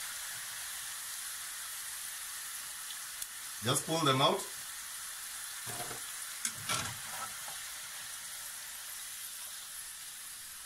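Waffle fries frying in hot oil at maximum heat give a steady, crisp hiss throughout, with a few louder bubbling bursts as they are lifted out, while a voice speaks briefly over the sizzle.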